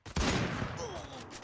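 Gunfire erupts in a battle royale video game, a sudden loud burst of rapid shots followed by scattered fire and ricochet-like tones.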